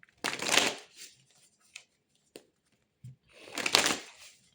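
Tarot cards being shuffled in two loud bursts of riffling, with a few soft taps and card handling noises between them, close and alone.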